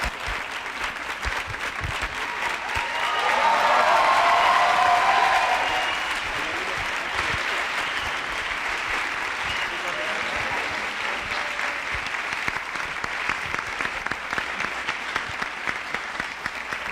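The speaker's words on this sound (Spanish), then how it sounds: "Aplauso, por favor." Festival audience at a master class with filmmaker Alfonso Cuarón breaks into sustained applause, a dense wash of clapping that swells midway and then carries on steadily with a few cheers.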